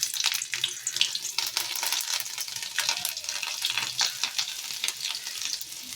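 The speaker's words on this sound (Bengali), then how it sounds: "তেল গরম হয়ে গেছে, আমি কালো জিরে দিয়ে দিলাম তেলের মধ্যে, আর দিয়ে দেবো 2 কাঁচা লঙ্কা" Nigella seeds and green chillies hit hot oil in a pan, crackling and spitting in dense, rapid bursts over a constant frying hiss, close and fairly loud.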